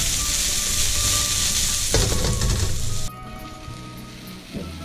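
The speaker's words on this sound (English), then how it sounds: "now I've got all the ingredients in the pan. I'm going to fry them up a little bit" Pumpkin and other curry ingredients, alongside freshly caught fish, fry in a hot pan with a loud, dense sizzle that surges when stirred and then settles lower, with no talking.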